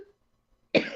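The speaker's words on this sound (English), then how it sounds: "Why are you over there coughing?" A person coughs once, a sudden harsh burst after near silence, close and loud, trailing off briefly.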